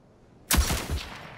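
Turret gunfire in the Rogue Company shooter game, a single sharp loud report followed by a short rattling echo and a second softer crack that fades out.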